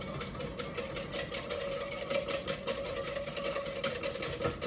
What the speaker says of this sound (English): Then we have to whisk it up on heat.